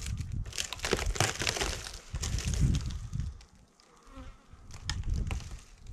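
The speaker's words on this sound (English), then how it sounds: "there are bees coming out" Bees leaving a beehive at the first spring check, a close busy buzzing hum with crinkly rustling, easing briefly before swelling again.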